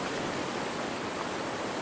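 Water flows from the Cube Creek water extraction device, a steady, loud hiss of close rushing water with no pauses and no voices for the whole short stretch.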